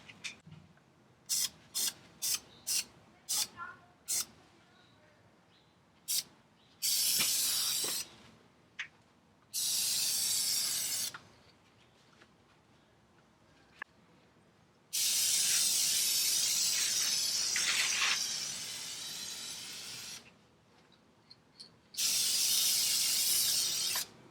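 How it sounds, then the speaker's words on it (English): Light coats of yellow paint sprayed onto brake calipers still mounted on the car, heard as a run of short hissing spray bursts followed by several longer sustained sprays with pauses between them. "we're gonna start putting down our first coat of yellow. Make sure they're light coats."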